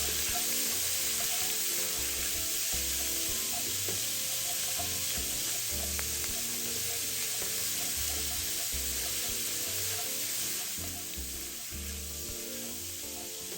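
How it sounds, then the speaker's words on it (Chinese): Minced pork and dried shrimp sizzle steadily in a hot wok, with a constant frying hiss and repeated scraping stirs, no talking. "放入肉末後立即翻炒，壓散，讓肉末均勻受熱，避免結成大塊。"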